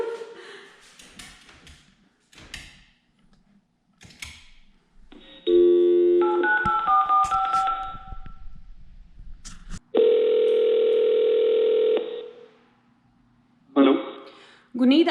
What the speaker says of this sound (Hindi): तो इंटरकॉम से कॉल कर लेते हैं